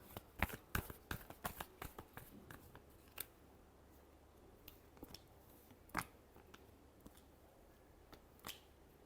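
Tarot cards being shuffled, giving quiet, close, irregular riffling snaps that cluster at the start, then taper off to sparse clicks over a faint background.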